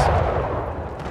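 Volley of pistol fire from cavalry in the battle game Total War Pike and Shot, a single dense, rumbling burst that fades out over about a second.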